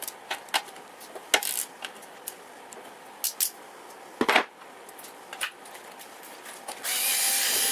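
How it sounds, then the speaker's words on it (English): A cordless screwdriver backs bolts out of a sump cover on a Tecumseh engine. The tool makes short scattered whirs and clicks, then runs continuously over the last second, close and with no talk. "I'll get the cordless screwdriver and just zap them all off"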